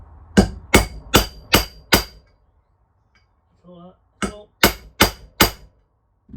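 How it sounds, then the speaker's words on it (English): Steel hammer striking a metal centre punch to mark a drill spot on a bracket aboard a boat: five sharp, loud blows in quick rhythm, a pause with a brief spoken word, then four more evenly spaced strikes. "I'm just going to use a punch to mark where I want the drill bit to go"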